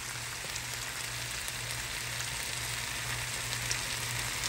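Steady, even sizzling of chicken on a hot grill, a constant crackling hiss with no talking.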